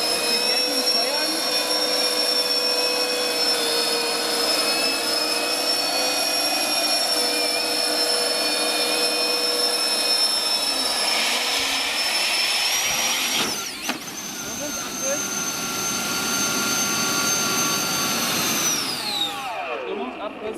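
Electric ducted fan engines on a radio-controlled Su-47 VTOL model jet whine steadily and loud with high tonal lines, surge near the middle, then wind down as a fan stalls near the end.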